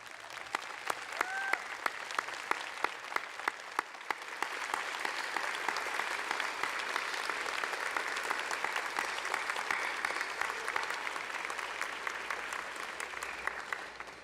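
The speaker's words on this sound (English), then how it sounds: "Give them a round of applause." An audience at a memorial convocation ceremony gives a long round of applause, beginning with scattered distinct claps and building into steady, dense clapping that carries on at an even level.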